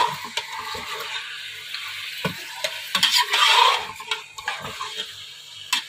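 Beef chunks for bhuna gosht fry in a pot under repeated stirring, a steady sizzle broken by sharp scrapes and knocks of the spoon, loud and close with a brief surge of hissing midway.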